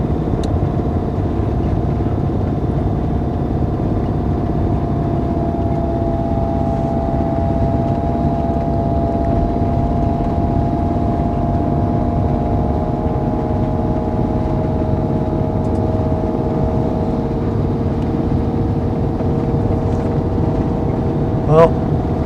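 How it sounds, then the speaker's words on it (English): Car engine braking in second gear while descending a mountain road on the R704 in Morocco's Atlas Mountains, a loud, steady low drone with a sustained whine holding throughout, close inside the cabin. "going to keep her in second just to use the engine braking."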